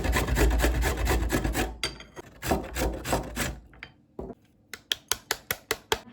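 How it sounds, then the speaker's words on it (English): Carrot and courgette rasp against a kitchen grater in rapid, loud, close rubbing strokes, followed by a run of sharp, evenly spaced tapping knocks. "Next step is grating the veggies."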